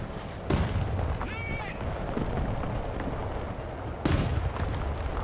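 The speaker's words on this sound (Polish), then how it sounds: "Ktoś do mnie strzela, ale nie wiem skąd" Enemy gunfire strikes at an SB2U-3 Vindicator dive bomber in a combat video game: two heavy, sharp bursts of shots about three and a half seconds apart over a constant engine drone, with a player's voice talking.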